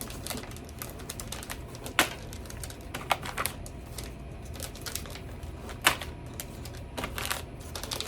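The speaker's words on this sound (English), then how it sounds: "This is ASMR as you hear me crinkling." Crinkling plastic packaging of a mystery full dice set, handled close up in irregular crackly bursts with a few sharper snaps and no talking.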